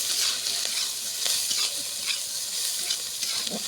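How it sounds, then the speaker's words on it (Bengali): Chopped onion and garlic frying in a pan for potato curry, a constant bright sizzle with soft intermittent stirring scrapes, moderately loud with no talking. "ভালো করে ভেজে নেব।"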